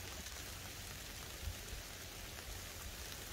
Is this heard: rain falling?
yes